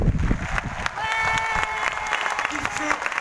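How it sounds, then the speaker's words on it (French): Audience at a Marrakesh comedy show in a palace venue clapping and cheering for a performer, a brief burst of applause and crowd noise with voices mixed in. "Vous pouvez applaudir mon ami Salah"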